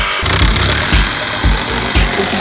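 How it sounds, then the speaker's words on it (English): Two reciprocating saws, a Flex and a DeWalt, cut side by side in a race, giving a loud, continuous buzzing with a steady rhythmic pulse of strokes and no pauses. "twin Sawzall race. Is it gonna be the Flex twin"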